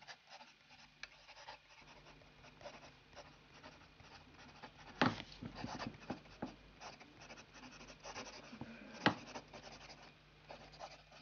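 A fountain pen with a medium nib writes in Aurora Black ink on paper, making a faint, steady scratching with two sharper strokes standing out.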